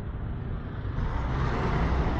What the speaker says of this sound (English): Got this big semi truck coming past me.